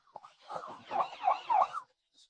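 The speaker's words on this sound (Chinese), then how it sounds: "会议室外传来了警笛声" A police siren sound effect wails in a short rising and falling pattern, loud and alone for about two seconds before cutting off into silence.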